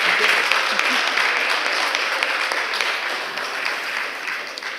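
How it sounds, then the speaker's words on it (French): A conference audience gives sustained, fairly loud applause for two Shift Project speakers after a talk on decarbonization and sovereignty. Voices mix in beneath the continuous clapping. "je pense qu'on peut encore les applaudir, nos 2 conférenciers du Shift Project"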